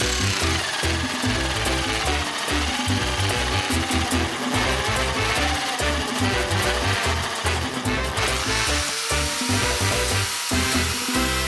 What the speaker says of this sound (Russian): Так, взял 40-е сверло, чтобы проверить на стресс-тест и посмотреть, что покажет ваттметр.